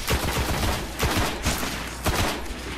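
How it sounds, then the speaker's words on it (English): Gunfire in Destiny, aimed at the player, comes as repeated sharp shots in quick clusters, loud and close, with bursts roughly every half second to second over steady game ambience. "Something shot me."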